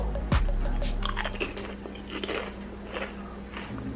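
Close, loud crunching and chewing on microwavable pork rinds, with an irregular series of crisp bites that stand alone without talk.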